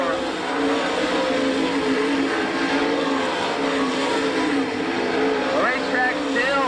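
Sprint cars race on a dirt track at an All Star Circuit of Champions heat race, engines roaring steadily and loudly throughout with a continuous high drone, an announcer talking over them.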